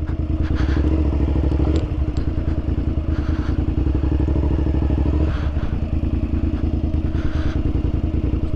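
Motorcycle engine running steadily while riding over muddy ground, a loud close rumbling drone with repeated clattering thumps and knocks from the bike and terrain.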